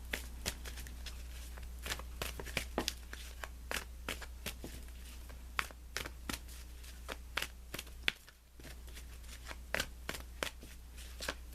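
A tarot deck is shuffled by hand in a quiet room, giving a long run of soft, crisp card flicks and riffles with an irregular rhythm over a low steady hum.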